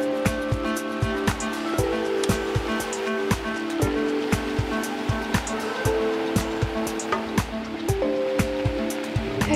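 A fountain water show in Kuala Lumpur, with rushing, splashing water set against loud rhythmic music with a steady pulsing beat throughout.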